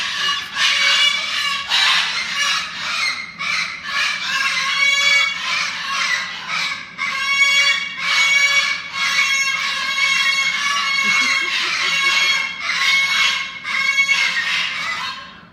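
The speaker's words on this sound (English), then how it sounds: "that's two cockatoos and an Amazon having a conversation." Two cockatoos and an Amazon parrot call back and forth indoors, a loud, near run of harsh, repeated squawks and screeches in uneven bursts that continues with barely a pause.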